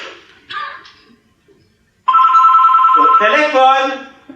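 A telephone rings in a stage play, its loud steady electronic tone sounding alone for about two seconds after a brief spoken exchange, then continuing under a voice.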